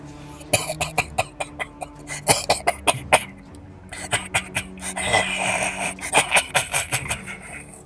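A burst of repeated coughing, many short hacking coughs in quick rhythmic succession with brief pauses, close and fairly loud, mixed with wheezy throat sounds.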